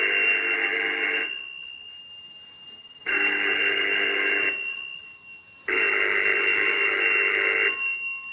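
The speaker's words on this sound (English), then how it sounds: "Phone's been ringing for 10 minutes." An old-fashioned telephone bell in a 1935 Paris setting rings in three long, loud bursts of about two seconds each, separated by quiet pauses, with no speech.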